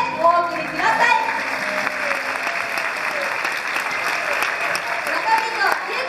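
Audience applause at a university Miss and Mister contest in 2014 as the contestants leave the stage, a steady dense clapping that fills the hall for the whole stretch, with faint voices underneath.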